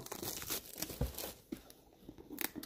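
Close crinkling and tearing of plastic packaging as a parcel is unpacked, a quiet run of rustles and crunches.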